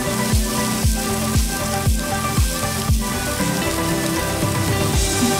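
Katla fish frying on a tawa over a low flame, a steady crackling sizzle throughout with soft, regular thuds repeating about every half second beneath it.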